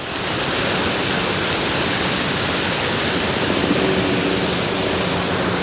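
Thundering water pours over the top of a waterfall near the Zimbabwe border in Africa, a constant broadband roar heard up close and loud from start to finish, no one speaking.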